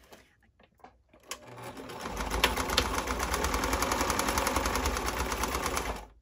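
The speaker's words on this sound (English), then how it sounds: "my sewing machine happens to be pretty heavy duty and actually goes over the straight pins" A heavy-duty home sewing machine stitches and backstitches a fabric pocket on boxer shorts, able to run over straight pins; after a few soft clicks it settles into a loud, steady rapid needle chatter for about five seconds before stopping.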